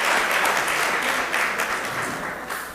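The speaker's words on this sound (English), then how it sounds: "So round of applause for all of the students who have participated today." A large audience applauds students at a youth entrepreneurship challenge event in New York City, loud dense clapping continuing throughout and slowly easing off toward the end.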